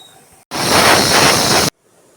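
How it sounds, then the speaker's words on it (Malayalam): A mixer grinder whirs loudly for just over a second in a single burst of harsh, even grinding, then cuts off abruptly, grinding tomato chutney with mint and green chillies. "തക്കാളി ഉപ്പെല്ലാം ചേർത്തിട്ട് മിക്സിയിൽ കറക്കി വരാം"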